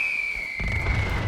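A Nuka Launcher heavy explosive blast from Fallout 76 hits midway as a sudden booming burst with a crackling tail, while a steady high tone runs beneath.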